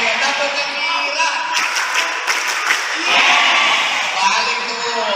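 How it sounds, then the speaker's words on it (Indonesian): A group at an Islamic boarding school does the tepuk gembira clapping chant, with voices chanting in unison over rhythmic claps in a loud, nearby crowd pattern. "Tepuk gembira."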